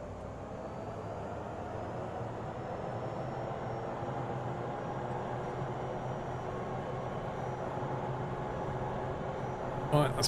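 In Microsoft Flight Simulator 2024, an aircraft accelerates down the runway on its takeoff roll, with a steady loud engine roar and rumble that holds throughout and a brief knock at the end.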